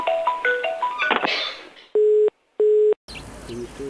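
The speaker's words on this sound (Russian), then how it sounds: "Извините, второй телефон." A mobile phone rings with a short melodic ringtone of stepped tones, then two loud steady ring bursts separated by a gap, followed by a muffled busy background at the end.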